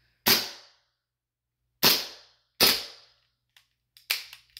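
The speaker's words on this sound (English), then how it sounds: "So I'm gonna take a couple shots down range over there." Gas blowback M9 airsoft pistol firing three loud, sharp shots spaced about a second apart, followed by a few fainter, quicker pops as the gas runs low, with no talk.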